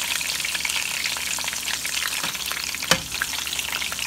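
Ginger garlic paste and onion paste fry in spices for a mutton kofta curry, giving a close, steady hiss and sizzle with a single sharp clink partway through and no talking.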